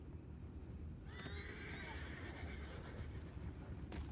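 A horse in the video game Red Dead Redemption 2 gives a single drawn-out whinny over a low, steady ambient rumble, fairly faint in the mix.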